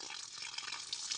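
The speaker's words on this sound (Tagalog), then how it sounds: "umagos na yung tubig" Water from a mountain source gushes steadily out of a 2-inch irrigation hose on a farm, a faint, constant hissing rush over the brief moment.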